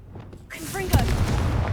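A Confringo blasting spell goes off in Hogwarts Legacy, a sudden burst that blooms into a sustained crackling, rumbling blast, joined by a short swooping magical whistle and fading into a noisy, busy combat ambience.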